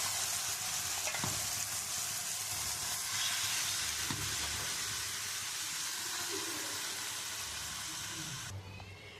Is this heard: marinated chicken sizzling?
yes